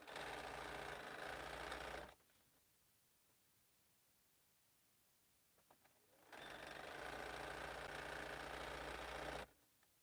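A sewing machine stitches a quilt for a retreat in two long, steady, loud runs of rapid mechanical whirring, separated by a quiet pause of a few seconds.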